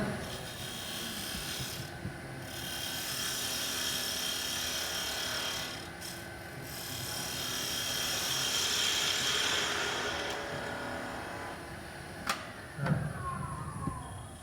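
A wood lathe faces off a box blank under a spindle gouge, making a sustained raspy cutting hiss that swells and fades over several seconds, with a couple of sharp clicks near the end.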